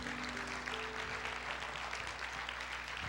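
A church congregation applauds at the close of a prayer service, a steady, moderately faint wash of clapping that holds evenly throughout with a faint hum beneath.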